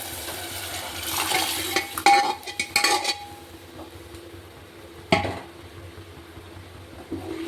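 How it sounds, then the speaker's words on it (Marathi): Urad dal tipped into fried masala in a pan and stirred, with a few clinks of a spoon against the pan and a faint sizzle in between, then a single sharp scrape near the end. "मसाला चांगला फ्राय झालाय, त्याच्यामध्ये उडीद डाळ टाकून घ्यायची"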